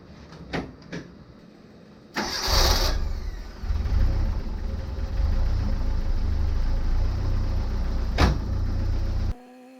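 A 1984 Bertone X1/9 starts after an oil and filter change, a brief burst of cranking giving way to a steady, loud, low idle that runs close by for several seconds before cutting off abruptly.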